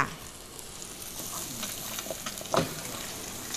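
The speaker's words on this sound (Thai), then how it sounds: "ผัดเห็ดให้ให้เข้ากับเนยครับ" Mixed mushrooms stir-fried in butter in a pan give a steady, moderate sizzle with soft stirring scrapes and a sharper utensil clack near the end, with no voices.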